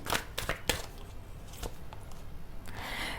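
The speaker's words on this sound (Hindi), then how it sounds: "और एक कार्ड निकालते हैं" An oracle card drawn from a deck makes soft, close shuffling and sliding snaps, several quick flicks followed by a brief rustle, with no talking.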